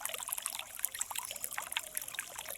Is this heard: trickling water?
yes